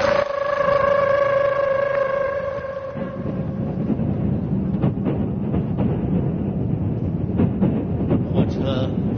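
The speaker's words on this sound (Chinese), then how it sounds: "坐火车。" A staged train sound effect in a televised comedy sketch for a May Day variety special: a steady, whistle-like horn tone for the first few seconds, then a rhythmic rolling clatter of wheels over track, fairly loud and close.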